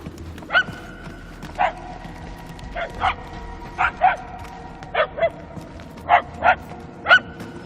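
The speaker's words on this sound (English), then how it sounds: "The barks are getting louder, at least." A dog barks in Marvel's Guardians of the Galaxy video game, a dozen or so sharp barks in loose pairs and singles at moderate distance over low background sound.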